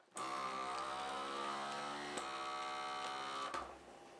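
A vacuum sealer hums steadily as it pulls air from a bag of marinade, a droning motor tone lasting a few seconds with small clicks before it cuts down at the end.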